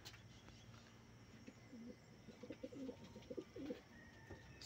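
Pigeons in a small home loft give soft, repeated cooing calls in a short burst, close by and quiet, with faint shuffling around them.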